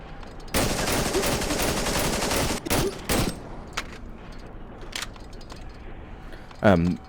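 Browning High Power pistol firing in the horror game Cry of Fear: a dense, loud volley of shots, then a few separate sharp cracks, ending with a brief metallic clink.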